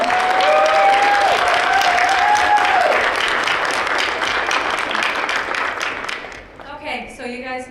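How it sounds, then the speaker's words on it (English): Audience applause at a middle school knowledge bowl final, full sustained clapping with a faint tonal hum beneath, thinning out before a voice speaks at the end. "if we could also just have a round of applause for Carol and Rochelo"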